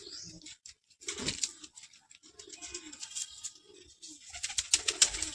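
Kalshira pigeons in a loft give soft, low coos in short bursts, close by, mixed with rustling wings and light scratchy patter from the birds moving about.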